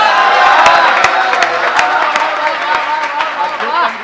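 Audience applause and cheering at a romantic Hindi poetry recital in Indore, a loud burst of clapping with whoops and crowd voices that holds steady and then tapers slightly.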